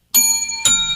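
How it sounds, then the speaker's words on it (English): Two bright bell dings, a double chime struck in quick succession, each ringing with clear sustained overtones and a short decay, loud and close with no talking. "That's a double bell."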